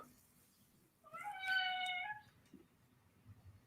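A cat meows once, a drawn-out tonal call of about a second, heard faintly over a low background hum.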